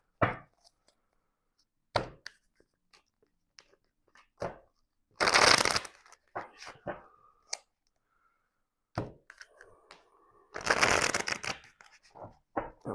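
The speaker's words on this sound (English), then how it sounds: "I'm going to shuffle the cards." Tarot cards are shuffled by hand in several short bursts of riffling and soft slaps against a table, separated by quiet pauses, close and crisp in a quiet room with no talking.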